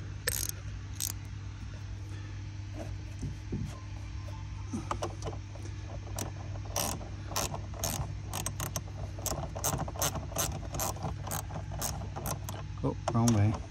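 A ratchet tightens a car battery terminal on a 2005 Jaguar XJR, producing a series of close, sharp metallic clicks and ratcheting bursts in uneven runs over a low mechanical hum.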